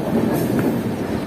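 Northeast Sampark Kranti train running, heard from inside its Vistadome coach: a steady, close rolling rumble of wheels and carriage with a faint higher squeal, continuous and without talk.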